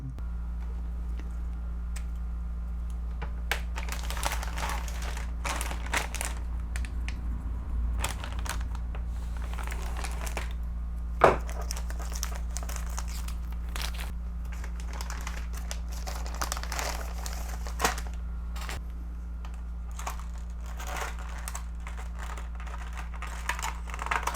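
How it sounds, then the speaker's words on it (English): A plastic package of DeLorean model parts, including molded plastic power coils, is opened at close range: scattered crinkles, clicks and ticks of plastic over a low steady hum, with one sharper snap partway through. "So let's open up the package and see what we've got."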